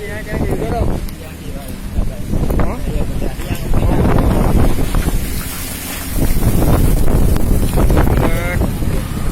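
Strong tornado winds in Banda Aceh roar and buffet the microphone in heavy, surging gusts throughout, with people's voices partly audible beneath the din.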